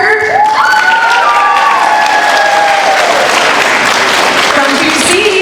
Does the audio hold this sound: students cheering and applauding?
yes